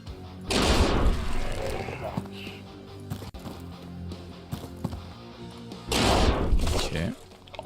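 SMG gunfire in the game Quasimorph: two loud bursts of rapid shots near the start and end, with game sounds and speech in between.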